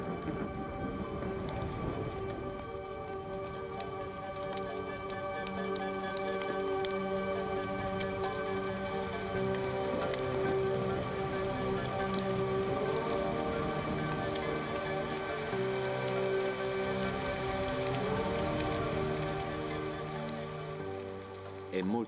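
Heavy tropical rain pours steadily across the Serengeti, a dense continuous hiss and patter that holds an even level throughout, with a faint background drone running underneath.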